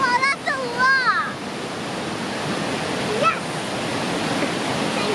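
Waterfall roaring with a steady, full rush of falling water throughout, fairly close. A child and an adult briefly talk over it near the start.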